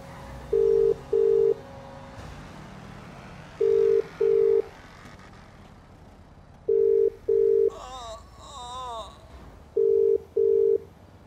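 Phone in GTA V dialing to call an ambulance: repeated pairs of steady electronic ringback tones at an even pace, with a short warbling burst partway through and faint background noise.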